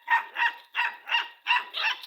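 A dog near a chicken coop barks six times in three close pairs, loud and close, with short pauses between the pairs and no talk over it.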